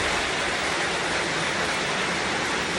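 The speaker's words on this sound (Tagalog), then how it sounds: "Ganito pag malakas ang ulan sa bukid." Heavy rain pours steadily onto a farm field, a dense, loud, unbroken hiss with no pauses or other sounds.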